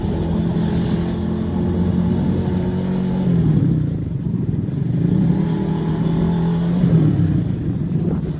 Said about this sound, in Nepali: भाइको बाइकको आवाज चाहिँ खतराका